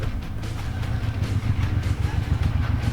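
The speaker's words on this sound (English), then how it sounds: "Oh, hey, look, I hear a motorcycle." A motorcycle engine rumbles and pulses, growing slightly louder as it nears, with no voices over it.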